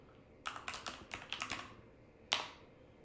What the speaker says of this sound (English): I'm going to type it in here